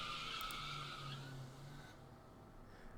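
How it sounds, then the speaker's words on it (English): A car in a video game roars past with tire-skid noise and a sustained tone, loud at first and then fading as it speeds away down an empty road. "someone lays on the horn as they drive past us"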